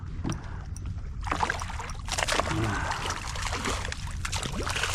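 Large Australian salmon splash and leap from the sea beside a boat, bursts of watery splashing and churning rising over a steady background of lapping water and outdoor ambience.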